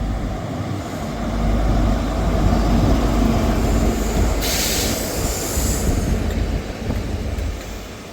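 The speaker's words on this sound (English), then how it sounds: "Departing out now is the 1439 Scotrail service from Glasgow" A ScotRail passenger service from Glasgow pulls out of Montrose station with a steady, heavy rail rumble that builds and holds, and a brief high wheel squeal midway. No voices are heard.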